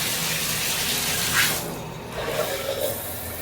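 A hotel room water tap at a Walt Disney Boardwalk studio runs with a steady broadband hiss, loud and close, easing slightly toward the end as the flow changes.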